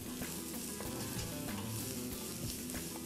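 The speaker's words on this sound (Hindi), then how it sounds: "चम्मच घुमाएं जब तक सारी प्याज सुनहरी ना हो जाए" Onions sizzle and fry in a pan while a spoon stirs them, a dense, continuous crackle close up with no talking.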